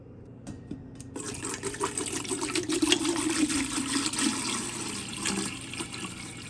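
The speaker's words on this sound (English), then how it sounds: "I try to get the filters wet when I'm pouring in the water" Water poured into the top chamber of a Berkey gravity filter, wetting the filters, a close steady gushing and trickling that builds after a brief start and carries on without talk.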